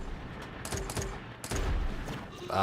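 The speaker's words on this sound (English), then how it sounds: "Man, they are still shooting at me, aren't they?" Enemy tanks in the Retro Tanks video game on Xbox One fire repeated shots, arriving as a quick burst of sharp cracks before a denser volley in a short, moderately loud stretch.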